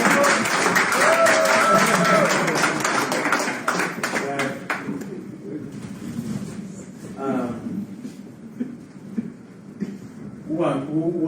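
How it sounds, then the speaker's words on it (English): Audience clapping at a property sales masterclass, a dense burst of hand claps for the first few seconds that thins and fades out, with people talking over it and afterwards. "clap for me now"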